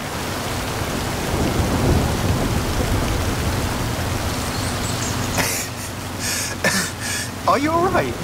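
Heavy rain and rumbling thunder from a storm in the racing game Forza Horizon 5, a loud continuous downpour with deep rolls, then sharper crackling bursts near the end as a voice briefly sounds.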